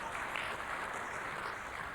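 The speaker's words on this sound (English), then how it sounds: "And I thought Bill deserved a round of applause for that." Steady applause from an audience at a speech, a dense patter of clapping that holds evenly throughout without any voices.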